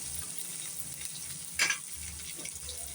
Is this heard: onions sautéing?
yes